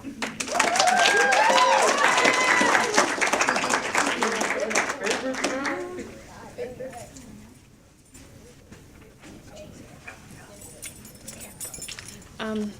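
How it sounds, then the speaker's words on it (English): An audience cheers and claps to welcome a teacher at a school celebration of excellence, with loud whoops and screams over clapping that fade after about six seconds into quieter murmuring. "I hope that everyone welcomes her with nice claps and good screams."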